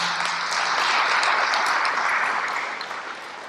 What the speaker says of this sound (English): can we give them a big round of applause to all the Marines here?